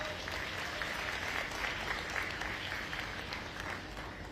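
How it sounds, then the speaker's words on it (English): Renewed audience clapping at the Voters for Tomorrow Summit in Washington D.C., a continuous, fairly dense patter of many hands at steady level from start to finish. "Let's clap it up again"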